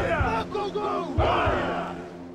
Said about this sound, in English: The Hawaiians are doing what we'd recognize as some kind of haka.